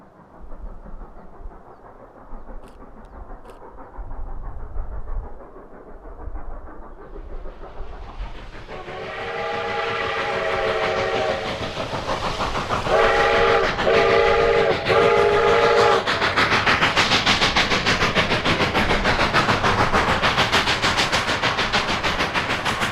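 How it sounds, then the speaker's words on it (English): A Cumbres and Toltec narrow-gauge steam train climbs a mountain grade near Windy Point, its loud chuffing swelling as it approaches and its whistle sounding two long blasts, with no talk. "we find the railroad climbing out of the Coxo Horseshoe as it peeks through the aspen groves"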